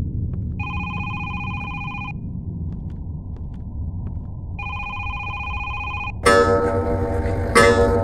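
Telephone ringing in the horror video game Is Simon There?, two separate electronic ring bursts spaced a few seconds apart over a low rumbling ambience, then a louder harsh noise burst at the end.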